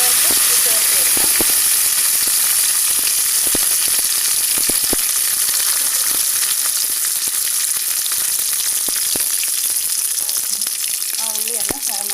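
Onions frying in hot oil for a Kerala-style mango curry, a continuous loud sizzle and hiss with occasional stirring clicks, no talk over it.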